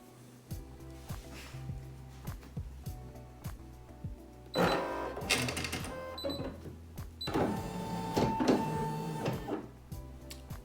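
A Brother SE1900 embroidery machine stitching a design onto a T-shirt, giving a quick rhythmic mechanical ticking that swells into louder bursts of rapid whirring stitching.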